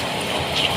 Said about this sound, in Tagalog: May ulan yan, guys.